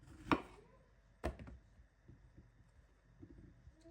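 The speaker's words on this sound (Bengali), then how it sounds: "এভাবে করে আমি কাটবো বেগুনগুলো" A kitchen knife chops through eggplants, giving two sharp, distinct cuts early on, followed by softer, fainter knocks in a quiet room.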